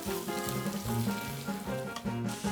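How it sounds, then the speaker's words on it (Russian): Shredded cabbage stews with onion in a pan, giving a steady soft sizzle with faint bubbling and occasional stirring sounds, close by and with no voices. "К оставшемуся луку добавляем нашинкованную капусту и тушим ее до готовности."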